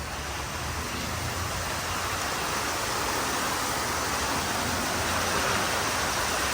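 Heavy rain pours down during a thunderstorm as a dense, steady roar that fills the whole clip without a break, close and loud, with no voices.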